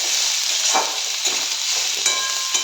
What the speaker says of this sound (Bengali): এরপর এটাকে হালকা ফ্রাই হবে।